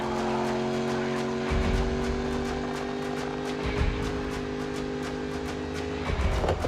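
Video game race car drifting through a turn, a steady engine drone with layered tire squeal, loud and continuous, occasional thumps and surges.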